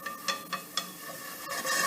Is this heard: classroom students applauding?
no